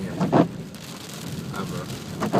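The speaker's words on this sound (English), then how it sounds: "That's the most rain I've ever seen." Heavy rain pours steadily during a flash flood in Las Vegas, a continuous close wash of water with excited voices talking over it.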